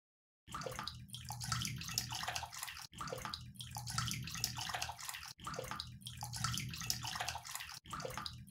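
Steady rushing, splashing water from a nearby waterfall fills the clip, loud and continuous, with brief breaks in the stream.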